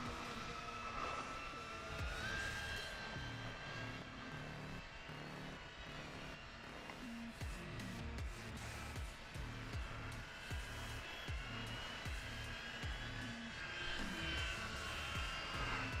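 A BetaFPV Pavo30 HD FPV drone cruising through open terrain, its motors giving a steady high whine with shifting pitch that holds continuously at moderate loudness for the whole stretch.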